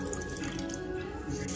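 Water pours steadily and continuously into a pot while Dindigul-style seeraga samba chicken biryani rice is being prepared, a close, even running splash.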